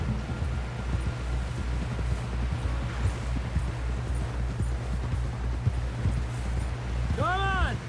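Hoofbeats of a horse galloping in Red Dead Redemption 2, a steady low clip-clop under wind noise throughout, with a short whinny near the end; no speech inside this stretch.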